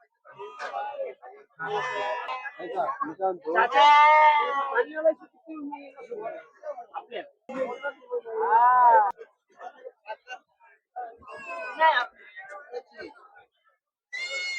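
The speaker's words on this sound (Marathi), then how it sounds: "सोईचा बोकड आहे बघू शकता एक नंबर क्वालिटी मध्ये बोकड आलेले शिरोईचे" Sirohi bucks bleat in loud, wavering cries at a busy goat and sheep market, rising several times between and under steady talking voices.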